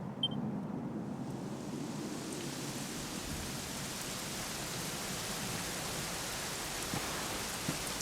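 Steady, dense rainfall in the Dragon Quest XI video game, a continuous hiss of falling rain at even strength throughout with no voices.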